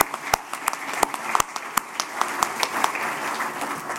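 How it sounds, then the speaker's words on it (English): Audience at an awards ceremony for customer experience recognition winners gives a light, sparse round of clapping, with scattered individual claps rather than a dense ovation, moderately near and without talk. "it certainly warrants a round of applause for them as well"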